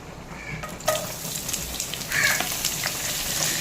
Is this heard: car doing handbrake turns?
no